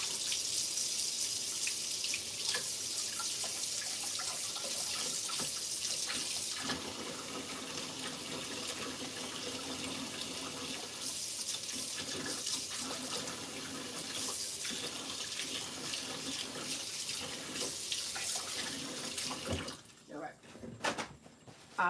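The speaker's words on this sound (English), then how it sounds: "I'm going to clean off my offset spatula" Tap water runs steadily into a sink while an offset spatula is rinsed, a continuous splashing stream that fades near the end with a few clatters.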